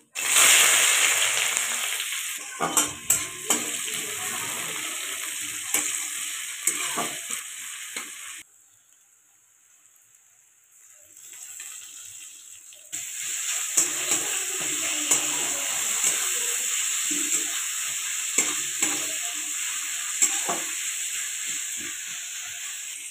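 Loud, steady sizzling of onions frying in hot oil, with a brief quieter gap midway and occasional scraping stirs.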